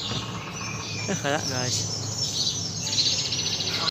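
Birds chirp and tweet in bright, repeated calls alongside a steady insect-like buzz, outdoors on an evening walk in London, with someone speaking briefly over them.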